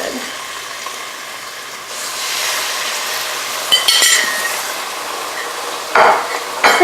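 Thick pork chops go into a hot pan over medium-high heat, giving a building sizzle broken by a few clinks and scrapes of the pan and utensils.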